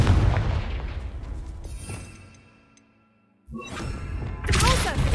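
Spell blasts from the Confringo fire spell in the game Hogwarts Legacy: loud booming bursts with crackling tails, a fading quiet gap, then another heavy impact and a bright roaring burst.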